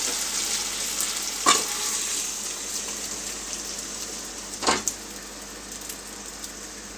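Lentils simmering with boiled whole chickpeas in a pot for cholar dal, a steady soft bubbling hiss throughout with two brief louder clinks or spoon knocks, no talking.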